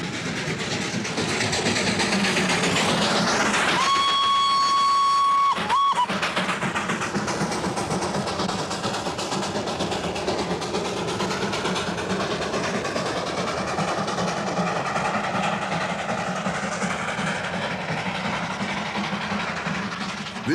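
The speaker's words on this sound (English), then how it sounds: "This is the spectacular little toy train with its 2-foot gauge, scrambling up the mountains on gradients sometimes 1 in 20" The little 2-foot-gauge Darjeeling Himalayan Railway toy train climbs steep mountain gradients, a loud continuous rumble and clatter with a long sustained whistle blast early on, no voices.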